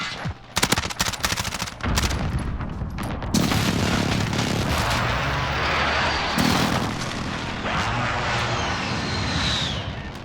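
A precision airstrike in the video game Modern Warfare: heavy gunfire and explosive bursts up front, then a long roaring rumble of aircraft and impacts, loud and continuous.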